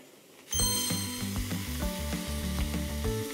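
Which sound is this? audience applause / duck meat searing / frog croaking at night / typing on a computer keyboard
duck meat searing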